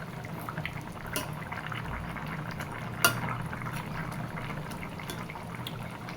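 Tilapia and potato curry simmering gently in a pan, a soft continuous low bubbling with a faint hiss and one sharp clink partway through, close by and steady.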